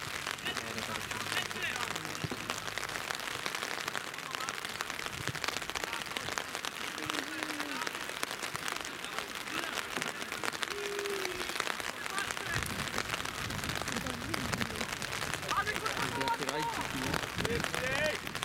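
Steady rain falls in sunshine over an outdoor league football match, Pilica against Buczek, a dense even hiss throughout with people talking nearby.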